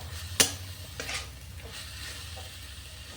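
Raisins and pre-fried nuts frying in a pan for banana flower curry, a steady soft sizzle with a sharp stir clatter near the start and a few lighter scrapes after, no talk.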